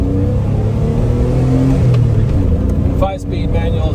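A 1982 DeLorean DMC-12 with a 5-speed manual gearbox accelerates, its engine droning loudly and steadily from inside the cabin, with a brief dip near the end as if shifting gear, while a person talks over it.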